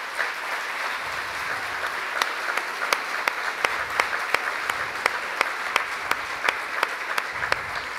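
Sustained audience applause fills a debate hall, dense and steady with sharp individual claps standing out, loud and continuous throughout.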